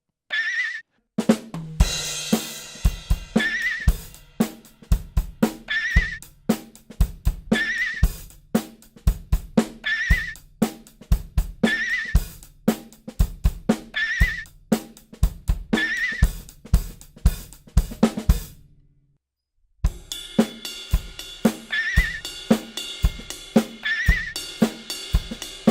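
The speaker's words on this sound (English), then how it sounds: "it is like a horse whinny" Sped-up horse whinny sample triggered from a Roland SPD1 WAV pad, the high, squealing neigh played repeatedly in rapid succession with rhythmic hits between, a brief pause, then the pattern resumes loud and close.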